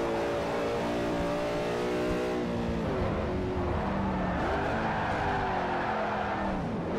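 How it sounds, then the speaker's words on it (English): A race car in the Forza Motorsport 4 video game revs hard and accelerates through gear changes, its loud engine drone continuous for several seconds with some tire noise and no talking. "This car will easily hit 120."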